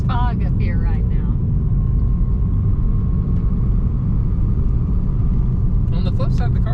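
A Saab 9-2X Aero hums steadily with low road and engine rumble as it drives up a foggy Blue Ridge Parkway mountain road, someone talking over the noise at the start and end.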